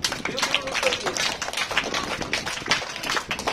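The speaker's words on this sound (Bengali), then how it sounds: "জোরে হাততালি একবার।" Students at a school Teachers' Day celebration clap loudly, giving dense, continuous applause mixed with voices.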